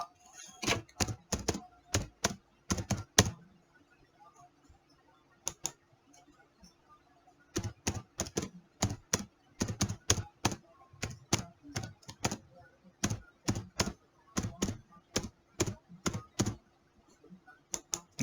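Fingers tap a computer keyboard while entering a password for an email account log-in, crisp close clicks in quick bursts separated by short pauses, faint and alone without talk.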